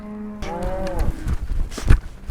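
A cow on a cattle farm gives a loud, close moo at the start, followed by shuffling and thumping noises, with no talk.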